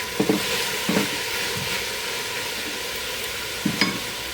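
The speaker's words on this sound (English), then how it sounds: "Now that you can smell the garlic, put the beef and all its juices back in." Beef and its juices sizzle steadily in a hot pan with garlic, a continuous frying hiss with a few clanks and stirring scrapes near the start and end.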